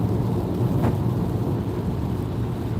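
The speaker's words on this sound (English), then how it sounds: "Where are you with all this rain?" Heavy rain pours over a car driving on a Florida highway, a dense, steady roar of water and road noise that holds loud and even throughout, with no voices.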